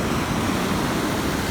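Broadband rushing of ocean surf at the shore on the Cleveland Way coast, a steady, close, loud wash of water with no voices.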